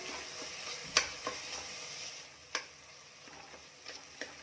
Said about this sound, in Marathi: हा टोमॅटोचा चमच्याने छान स्मॅश करून घेऊया